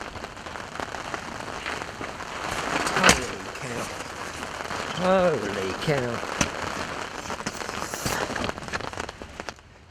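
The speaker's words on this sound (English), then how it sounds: "Electric lightning going, thunder, rain." Heavy thunderstorm rain pours down hard and steady while fishing outdoors, with a loud crack of thunder partway through and a man exclaiming briefly over the downpour.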